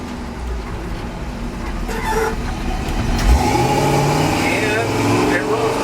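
A Pontiac Trans Am engine running smoothly after new spark plugs were fitted, a steady low rumble that swells slightly midway, close by with voices in the background.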